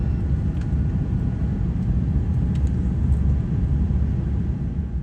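A Singapore Airlines Airbus A380 taking off at night, heard from inside the cabin as a loud, steady, low engine and rolling rumble throughout.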